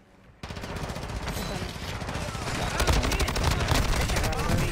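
Sustained rapid automatic gunfire in a shooter video game, loud dense bursts that begin abruptly and keep rattling almost continuously, with players' voices underneath.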